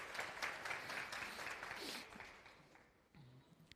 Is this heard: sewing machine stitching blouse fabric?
no